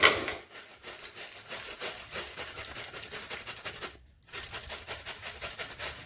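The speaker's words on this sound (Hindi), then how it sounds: "मैं इस तरह से गोभी को कद्दूकस कर लूंगी।" A whole cleaned cauliflower is rubbed against a grater in quick, repeated rasping strokes, close up, with a brief pause partway through.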